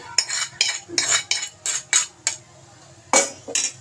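Bread halwa being stirred with a spoon in a pan, about ten distinct metallic scrapes and clinks in an uneven rhythm, close and clear over near silence.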